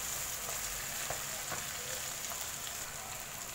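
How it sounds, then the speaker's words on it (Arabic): Tomatoes fry for a tajine in a pan, giving a steady, even sizzle like light rain throughout, with a few faint clicks and no talking. "حتى الطماطيش مليح كي تتقلى"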